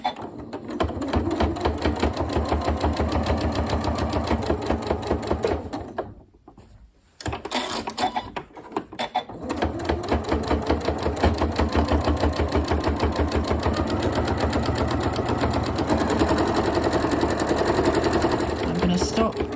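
A sewing machine quilts through cotton fabric and backing on a cushion, running in a fast, steady needle rhythm close up, with a brief pause partway through before it resumes.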